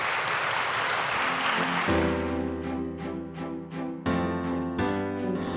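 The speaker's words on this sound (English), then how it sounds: "Let's give a round of applause to last panelist" Applause from an audience at a Martin Luther King Jr. celebration fades out as a sustained organ-like musical chord swells in underneath it.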